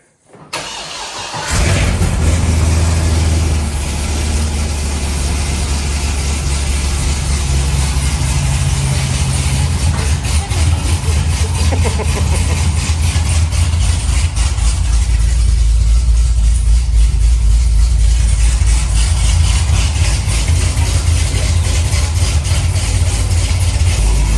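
An engine-swapped Corvette C6 Z06 with open exhaust cranks briefly, then fires and settles into a loud, deep, continuous idle with a steady low rumble that holds for the rest of the stretch.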